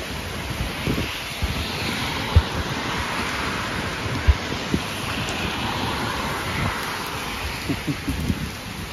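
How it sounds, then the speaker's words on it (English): Steady roaring wind from Tropical Storm Fred buffets the microphone outdoors in rain, a continuous loud rush with occasional harder gusts and thumps, no voices. "Some wind in there. It's dying off."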